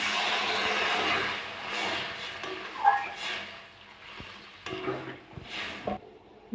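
Water poured into a pan of sautéing potatoes for a potol alur jhol gives a soft, steady sizzle and hiss with occasional stirring clatter, fairly quiet throughout.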